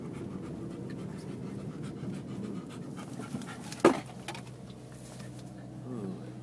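A dog pants steadily in rapid, close breaths, broken midway by a short sharp bump, then the panting goes on more softly.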